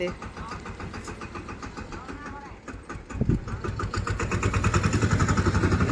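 A mini tractor engine runs close by on a village farm, a steady mid-pitched chugging that rises and grows louder and more rhythmic in the second half, with voices talking over it.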